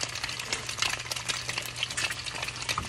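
Food frying in hot grease turned up high, a steady close crackle and hiss of popping oil with irregular sharp spits throughout, no voices over it.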